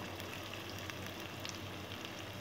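Garlic fries in a pan with a steady, dense sizzle and crackle, constant and fairly faint with no talking.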